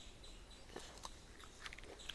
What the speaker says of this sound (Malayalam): നമുക്കിവിടെ ഒന്ന് കടിച്ചു നോക്കാം.